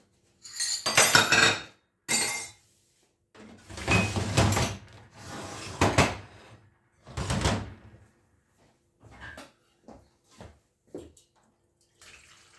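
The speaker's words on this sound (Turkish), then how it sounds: "bulaşıkları oraya koyacağım" Dishes and cutlery clatter into a kitchen sink in several separate bursts with short pauses, close by, ending with a few lighter knocks.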